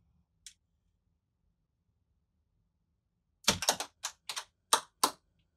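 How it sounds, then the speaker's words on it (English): After a single faint tick, a quick series of sharp mechanical clicks follows as guard locking safety switches in a GuardLink system unlock one by one, six or so in uneven succession, close and otherwise quiet. "the switches are turning off little by little by little"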